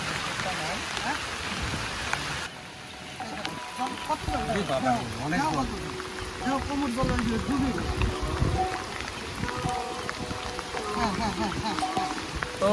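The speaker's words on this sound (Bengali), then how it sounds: "কি কব যে হারে বৃষ্টি নামছে" Heavy monsoon rain pours steadily onto an open field beside a small wetland, a dense continuous hiss throughout, with people talking over it.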